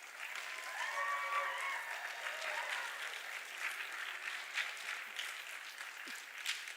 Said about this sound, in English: If we could give a big round of applause to the parents that came in here today.